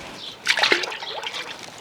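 Drinking water poured outdoors in a trickling, splashing stream, close and moderately loud, with a brief burst of sloshing early on settling into a lighter steady dribble, no speech.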